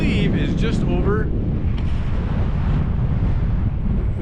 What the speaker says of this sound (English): it's windy up here, guys